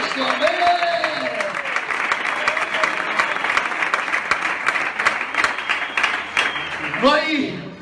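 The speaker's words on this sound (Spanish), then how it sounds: "Dan un fuerte aplauso al amor de Cristo." A church congregation breaks into loud, sustained applause that fills the space, with a voice heard briefly at the start and again as the clapping fades.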